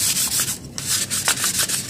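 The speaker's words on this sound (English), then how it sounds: "just rough them up a little bit with some fine grit sandpaper" Fine-grit sandpaper is rubbed over GI surplus gun magazine housings in quick repeated strokes, a close, scratchy, rhythmic rasp with no talking.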